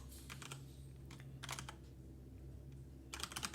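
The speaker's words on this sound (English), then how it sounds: "And then I'm just gonna type display" Bursts of computer keyboard typing while code is entered for a Godot 4 game script, quick clusters of key clicks separated by pauses over a steady low room hum, close and moderately quiet, no talking.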